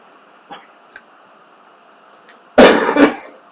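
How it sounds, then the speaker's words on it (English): One hard, close cough from someone whose chewing gum nearly went down their throat: a loud double burst after a quiet indoor stretch with a couple of faint small noises. "I had to cough it back up."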